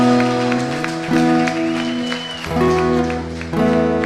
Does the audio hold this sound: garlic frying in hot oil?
no